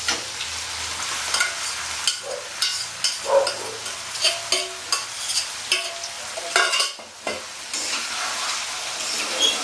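Meat sizzles in hot oil with browned onions for Bengali-style chicken biryani, a close, crackling fry broken by repeated scraping stirs of a spoon against the pan and a short lull near the end, with no talking.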